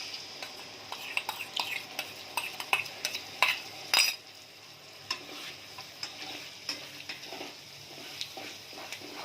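Onion with ginger and spice paste fries in oil for paneer butter masala, sizzling steadily while a spoon scrapes and clinks against the pan in quick bursts, busier early and settling later.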